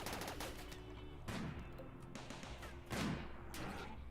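Side turrets fire in bursts in the video game RimWorld, quick rattling volleys of gunfire that come and go at low volume with no voices over them.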